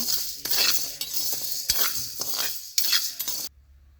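Chana dal is dry-roasted in a pan, stirred with a ladle in repeated scraping, rattling strokes that are loud and close, ending abruptly in silence.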